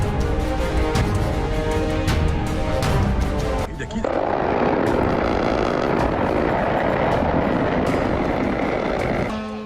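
Drones being intercepted during a war attack in news footage, with a loud continuous roar of engines and blasts throughout, a sharp change in the noise partway through, and a reporter talking over it.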